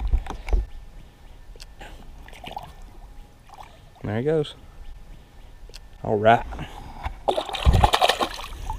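A caught bass is released back into lake water from a boat on a spring day in Kentucky, giving a couple of close splashes and water sloshes while someone talks briefly.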